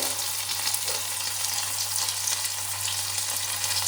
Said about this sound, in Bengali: তেলে দিলাম একটু আদা জিরে